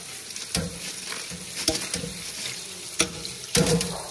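Crabs for a seafood boil rinsed under running tap water, a steady close splashing wash broken by a few sharp knocks and clatters, with no talk.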